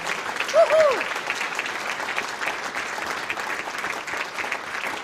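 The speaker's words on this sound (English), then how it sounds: "Keep that applause going, ladies and gentlemen." Steady applause from a large crowd at the 2023 Queensland Australian of the Year Awards fills the space, continuous clapping with a brief whoop near the start.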